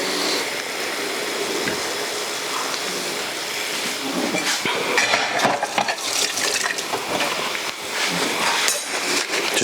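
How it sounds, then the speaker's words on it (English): A pan of halibut poaching in coconut milk being shaken, a continuous bubbling, sloshing sizzle that grows busier and more agitated partway through, close and fairly loud, with no talk. "Just give your pan a little shake."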